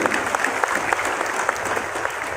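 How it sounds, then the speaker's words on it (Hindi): Enthusiastic audience applause at a celebration speech in Chandrapur, a dense burst of many hands clapping that stays loud and even throughout the short stretch. "जोरदार तालियां चाहिए।"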